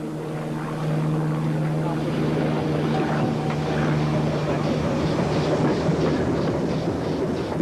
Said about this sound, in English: The pannier tank wasn't auto-fitted, so it had to run round.